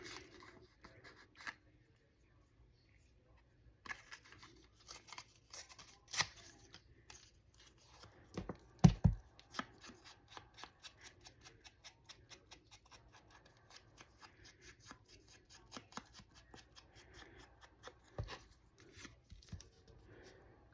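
Scissors snip through scraps of paper receipts in a long series of quick, crisp cuts, sparse at first and then in steady rapid bursts, close and fairly quiet, with no talking.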